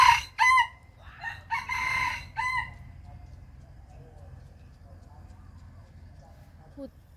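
Chickens in a Thai organic garden crow loudly up close, a few long rooster calls in the first seconds followed by quiet background and a faint cluck near the end.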